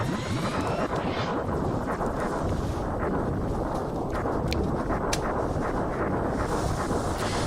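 Falco's bomb explodes in the Star Fox 2 beta video game, a loud, sustained rumbling blast that fills the whole stretch with dense, roaring noise and a few sharp higher crackles.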